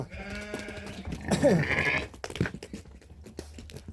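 Sheep bleat loudly at close range, one long wavering call rising in the middle, amid shuffling and crunching sounds in a livestock pen.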